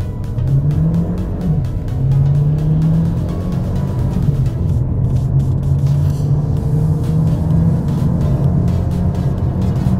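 A Mercedes-Benz CLA 180 AMG Line in Sport mode accelerating hard, with a loud, steady engine drone rising in pitch and shifting through gears, close and continuous with no voices.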